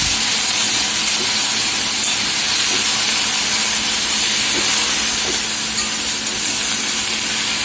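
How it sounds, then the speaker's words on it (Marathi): Cluster beans (gavar) frying in a pan until soft give a steady, loud hiss and sizzle with a few faint clicks, continuous and without talk. "ही बघा, गवार भाजली जाते छान अशी नरम होईपर्यंत भाजते."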